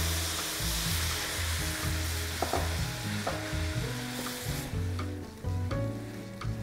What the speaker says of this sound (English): And I'm gonna add some of this pasta water in here.